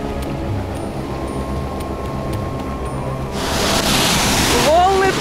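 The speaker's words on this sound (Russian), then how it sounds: "Волны тоже хорошие." Sea waves wash onto a beach shore at a campsite, a low steady rumble that swells into a louder, hissing surge of surf and wind, followed by a brief voice at the end.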